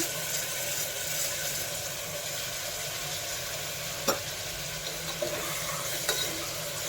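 Green chicken rice masala, with mint in it, sizzling and frying steadily in a pan after yogurt is stirred in, a continuous soft crackle broken by a few sharp clinks of a spoon against the vessel.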